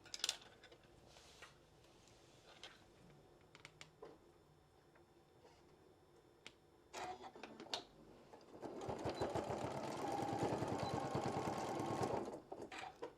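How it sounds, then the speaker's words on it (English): A sewing machine stitches the edge of a folded fabric apron: scattered clicks and handling noises, then a steady rapid mechanical whirring run of stitching for several seconds before it stops. "I'm going to sew right there on the edge of that fold over"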